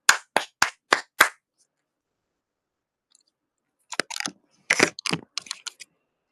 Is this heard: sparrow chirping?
no